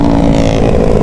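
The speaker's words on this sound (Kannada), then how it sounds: "R15 ಫುಲ್ ಮಾಡಿಫೈಡ್ ಬೈಕ್ ಇದೆ. ಡಬಲ್ ಸೈಲೆನ್ಸರ್ ಆಗಿರೋ" A fully modified Yamaha R15 motorcycle fitted with a double silencer revs loudly and steadily at close range, a dense, continuous engine roar with no voices over it.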